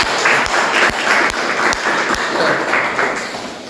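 Audience clapping for a speaker at an Indonesian training session, a loud, dense round of applause with a few sharp hand claps standing out, fading slightly toward the end.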